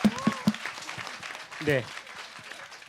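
An audience at a youth forum on smoke-free school routes breaks into applause, a steady wash of clapping running under a few spoken words and brief voices.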